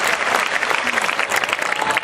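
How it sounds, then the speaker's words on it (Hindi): An audience at a Hindi poetry gathering (kavi sammelan) claps in a dense, loud burst of applause, with crowd murmur mixed in throughout. "एक बार पूरा सदन जोरदार तालियां बजाकर उनको बहुत बहुत बधाई दे।"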